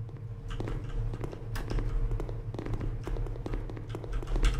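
Footsteps in the video game SCP: Secret Laboratory, a run of soft repeated taps over a steady low game hum, with no talk.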